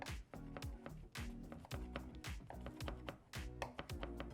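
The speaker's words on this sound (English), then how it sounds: "Use a nice sharp knife and go at it" Sharp knife chopping salami and provolone on a cutting board, rapid steady thuds in a loud, continuous rhythm without pause.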